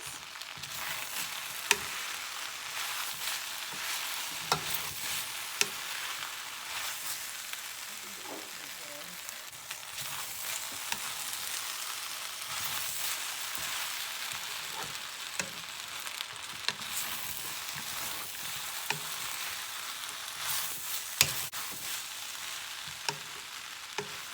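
Chicken chow mein is stir-fried with spring onions in a hot pan, making a continuous loud sizzle with scattered sharp clicks and scrapes of stirring throughout.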